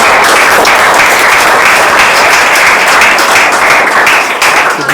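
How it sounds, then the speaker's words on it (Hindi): Dense applause from a group of students in a classroom, steady and loud throughout with many hands clapping at once, no voices standing out. "ताली बजा दो इसके लिए।"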